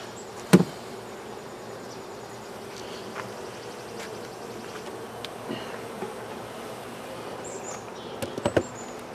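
Honey bees buzz continuously in a low, steady drone, with a few louder passes close by at the start and near the end.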